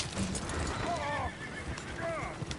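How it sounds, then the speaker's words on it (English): Horses whinny twice and hooves clop in Red Dead Redemption 2, the neighs rising and falling over busy game sounds, fairly close and loud. "Oh, shit, the horses!"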